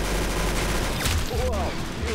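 Rapid gunfire from a slow-firing gun in the Roblox shooter Arsenal, a dense, continuous stream of loud shots with a booming low end across the whole stretch.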